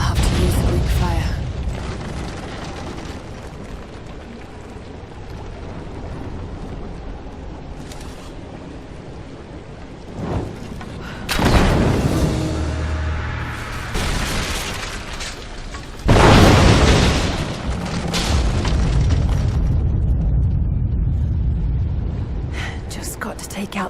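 Greek fire goes off in Rise of the Tomb Raider, sending two heavy booming bursts with rumbling debris through a tense, mechanical game soundscape, while a voice speaks beforehand.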